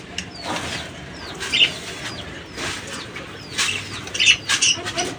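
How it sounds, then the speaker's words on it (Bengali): Birds squawk and chirp in short, scattered bursts over a steady background rustle, a few calls standing out louder near the middle and end. "কালকে নেহা মামুনি রাতের বেলা পাখিগুলোকে ভিজাই দিছে পাইপ দিয়ে পানি দিয়ে"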